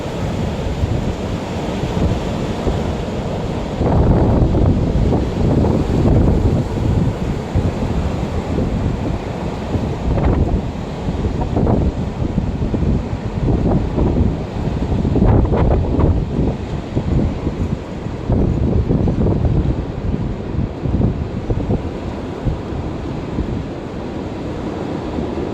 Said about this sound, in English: That's not a train, that's the wind.